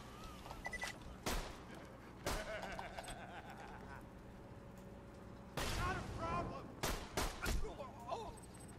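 Grenade blast and gunfire in Borderlands 2, several sharp loud bursts cutting through a quieter game soundscape, with a cluster of rapid explosive hits near the end.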